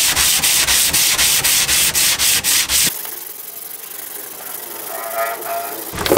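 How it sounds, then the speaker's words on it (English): Close, loud rhythmic strokes of block sanding body filler on a Land Cruiser FJ62 rear quarter panel, about a dozen even back-and-forth rubs lasting three seconds, then quieter scuffing and handling noise. "So I'm just gonna start by blocking this back so it's nice and smooth and the body filler's got something to grip onto."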